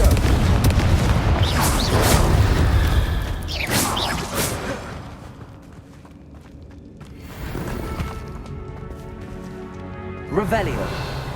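Bombarda and Confringo spell explosions in the Hogwarts Legacy video game go off as heavy booms and bursts, loud and close, in several rounds over a dense layer of game effects and footsteps.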